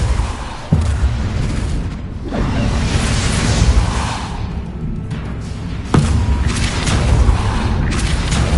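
Depulso spell effects in Hogwarts Legacy hit as heavy booming thuds, with a sharp impact near the start, another around two seconds and a loud one near six seconds, each trailing into a rumbling magical roar.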